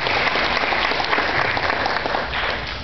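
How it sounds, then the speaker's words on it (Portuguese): Sustained applause from a church congregation at a parish celebration crowning Our Lady of Rocio honors the priest, a dense, even patter of many hands clapping close by for the full stretch. "Então uma salva de palmas também para o padre."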